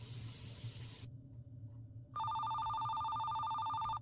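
A phone ringtone cuts in about halfway through: a loud, steady electronic ring with bright tonal harmonics. Before it there is a soft hiss, then a short quiet gap.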